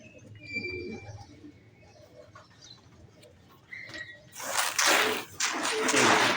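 Pigeons coo softly in the background with faint chirps, then loud crackling rustle of grain being mixed by hand swells up and covers them toward the end.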